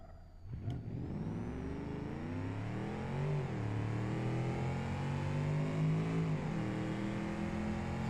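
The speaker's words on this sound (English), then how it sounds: "Sound like it's a V8, a Beam NG V8." V8 car engine in the BeamNG driving game revving up and down in long swells, loud and close, with no one talking.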